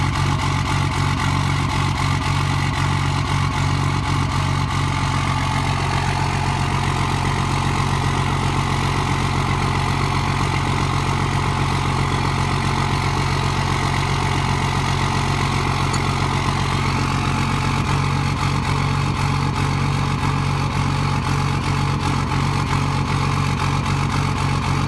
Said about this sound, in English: the truck sounded and ran like absolute crap when it was in park and it was just idling there